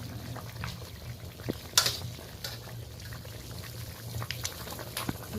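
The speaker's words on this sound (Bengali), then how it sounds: "তরকারিটা ভালোভাবে ফুটে গেছে।" Fish curry gravy with fried fish head and fish pieces bubbling in a pan, a continuous soft boiling burble with scattered pops and small splashes, fairly close, no talk.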